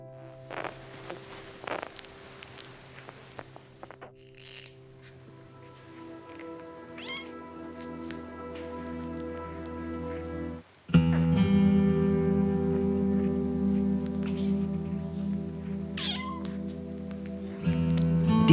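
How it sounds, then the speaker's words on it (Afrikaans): Kittens meow repeatedly inside a house, their high calls close and fairly loud, layered over steady humming background noise with occasional rustles and no talk. "Die klein katjies hier in die huis"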